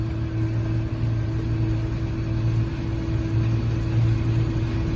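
An old John Deere 8820 combine harvests corn, its engine giving a steady, loud, low droning hum with a constant mechanical whine, close by and unbroken throughout.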